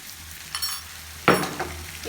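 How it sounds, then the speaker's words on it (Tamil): Onions and garlic sautéing in a pan for an onion masala, giving a steady low sizzle with a few brief stirring scrapes, one sharp loud burst near the middle, no talking. "இப்போ பாருங்கள், வெங்காயம் கொஞ்சம் ஓரளவுக்கு வதங்க ஆரம்பிச்சிருச்சு."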